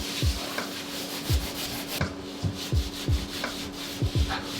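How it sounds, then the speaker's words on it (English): Short rhythmic strokes of a Scotch-Brite pad scrubbing across a surface, each pass a soft close scratchy swipe, repeating about every half second over a low steady hum. "Scotch-Brite pads."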